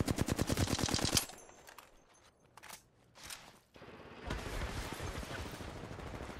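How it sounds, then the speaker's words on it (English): Rapid automatic gunfire in the Apex Legends video game, a loud close burst of fast shots, a few scattered single shots, then another sustained volley, with no speech over it. "Look at these shots on me, Felix, look at these shots on me."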